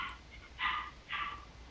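A dog indoors gives two short, sharp yips or barks about half a second apart, close and fairly loud, with no one talking over them.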